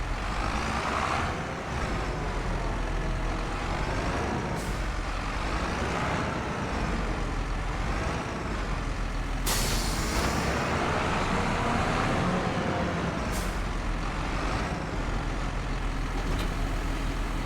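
Tractor engine in Farming Simulator 25 runs with a steady, loud mechanical drone throughout, joined by a few brief hissing bursts, with no talk over it.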